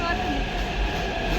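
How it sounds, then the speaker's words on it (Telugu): A metro train pulls into a station platform with a steady low rumble and rolling rail noise that fills the whole stretch, while people talk nearby. "ట్రైన్ వస్తుంది."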